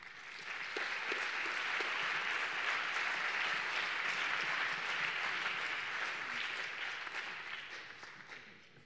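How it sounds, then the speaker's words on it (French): Award ceremony audience applauding a gold medal winner at a trophy presentation, a steady roomful of clapping that swells, holds and slowly fades out. "nos applaudissements sont nos remerciements"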